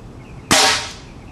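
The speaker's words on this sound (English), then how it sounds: "Grab the trigger, aim it whatever you want, and fire." A tennis ball fired from a compressed-air cannon gives one sudden, loud blast with a sharp onset and a hissing tail that fades over about half a second, with nothing else heard.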